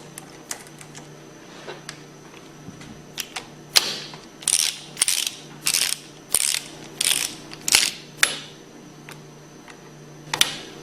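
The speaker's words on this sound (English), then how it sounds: "Tighten these hex bolts down in a crisscross pattern to approximately 15 foot-pounds." A ratchet tightens hex bolts on a Hypro centrifugal pump in a crisscross pattern. Scattered single clicks give way to a run of rapid ratcheting bursts at an even rhythm, close and crisp in a quiet room.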